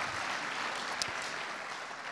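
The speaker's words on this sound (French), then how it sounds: "merci, vous pouvez les applaudir" An audience at a tech conference keynote claps, a dense, even wash of applause that fills the whole moment at moderate level with a single sharper clap near the middle.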